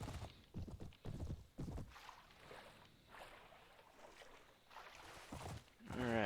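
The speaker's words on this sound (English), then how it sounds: "you just get on your horse and you ride by them" A horse gallops in the video game Mount & Blade: Warband, its quick clip-clop hoofbeats coming in irregular bursts at a low, fairly faint level with no talk over them.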